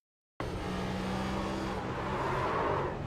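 A race car engine held on throttle at Pocono Raceway during a sim racing league event, a steady droning roar that starts abruptly after a short silence and stays even and continuous, with no talk over it.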